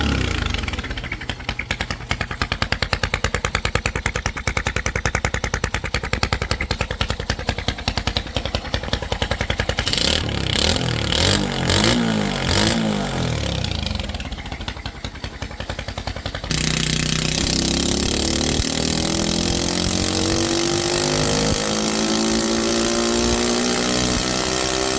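A pitbike engine fitted with an oil filter as a makeshift exhaust muffler revs hard, a loud buzzing roar rising and falling in pitch through repeated throttle blips, with no talk.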